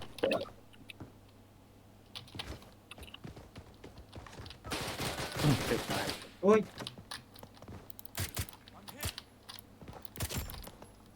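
A burst of gunfire from a Black Hawk rescue-mission video game on the Kozlovka map sounds as a dense, loud volley partway through, with scattered shots and clicks before and after, under occasional talk.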